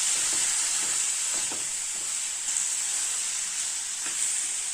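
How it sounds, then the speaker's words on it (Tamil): Milk is poured little by little into rava in a pan on a low flame and stirred, giving a steady hiss and sizzle with soft scraping strokes of the spoon, close and without talk. "நம்ம கொஞ்சம் கொஞ்சமாக ஊற்றி நல்லா கிளறிக்கலாங்க."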